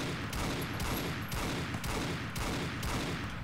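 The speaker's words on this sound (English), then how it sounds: "Let's just see how fast this thing fires." A modded Saiga 12k shotgun in Fallout New Vegas firing rapidly: loud, heavy blasts about every half second in a steady run, close and alone with no talk.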